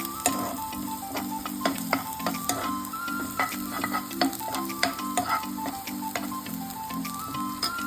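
Green chillies sauté in a pan, a soft continuous sizzle under repeated sharp ticks and scrapes of a spoon stirring against the pan, close and fairly quiet, with no talking.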